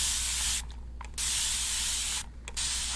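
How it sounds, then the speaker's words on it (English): Two short hissing sprays from a hand spray bottle during a close-up skin care exam, each burst about half a second long and close to the ear, set against a steady bright hiss with no talking. "I'm gonna spray you with this,"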